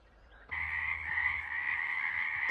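Frogs croak steadily in a creek watershed on a warm winter day, a dense continuous chorus starting abruptly after a brief quieter moment and holding strong throughout.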